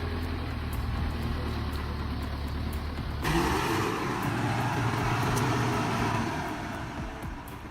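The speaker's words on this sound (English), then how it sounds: "A massive logging truck struggles to crest a steep, muddy slope, its trailer fully loaded with enormous, freshly cut logs." Heavy logging truck fully loaded with freshly cut logs, straining up a steep muddy slope, its engine droning loud and low and then surging harder partway through before easing off.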